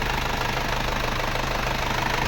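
An Isuzu engine runs at a steady idle, its rough, knocking mechanical drone continuous and close, with no voices present.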